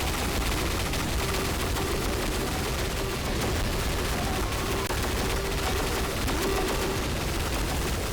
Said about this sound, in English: I felt like I was getting shot by a minigun there.